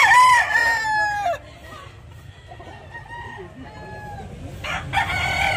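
A yellow-legged stag gamecock crows loudly and close at the start, a drawn-out call with a rough tail, followed by softer clucks and scratchy background farm noise, with a faint second crow near the end.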